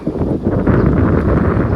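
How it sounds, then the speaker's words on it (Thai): A strong wind gusts just before rain, roaring steadily outdoors and buffeting the microphone in a constant loud rush with no talk over it. "ลมมาแล้วพี่น้องลมมาแล้ว"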